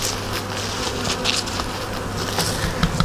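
Honey bees swarm around hives in an apiary, a dense, continuous buzzing close by with individual bees droning past, and no talk.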